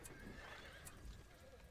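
Elk rider cavalry unit in the Edain Mod for a strategy video game: animal neighs and whinnies with hoofbeat clatter run steadily through a dense, busy battle din, at a moderate and even level.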